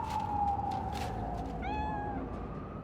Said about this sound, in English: Naked cat.